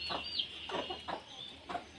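Farm chickens feeding on rice give a series of short, sharp clucks in four or five spaced bursts, fairly close and clear over a quiet background with no talking.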